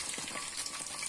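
Cassava and tempeh frying in a pan in a home kitchen give a steady, close crackling sizzle with dense spitting pops throughout, and no voices.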